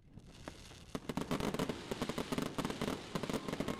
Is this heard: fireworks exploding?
yes